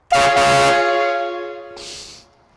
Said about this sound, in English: this bike with a legit train horn attached when the bell just isn't cutting it